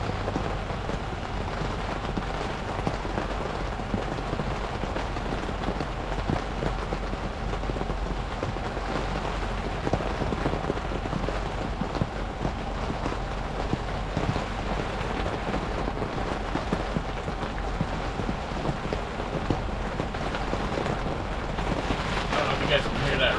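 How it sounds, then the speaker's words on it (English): Steady rain falls outdoors throughout, a dense continuous patter with faint rumbles, while a voice speaks intermittently over it. "You guys can hear that rain"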